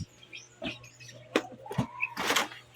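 Pet birds outdoors give scattered chirps and short calls, quiet and somewhat distant, with a few sharp bursts and a faint steady hum beneath.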